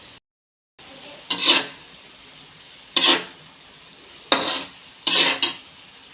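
Cabbage and vegetables fry in a pan for sotanghon guisado, with four separate bursts of scraping and tossing strokes over a faint sizzle, close by, spaced a second or more apart.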